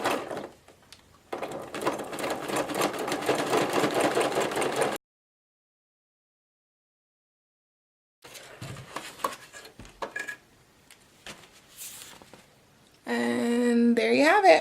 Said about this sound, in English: I'm just setting my stitch length a little bit longer so that hopefully it won't rip the pages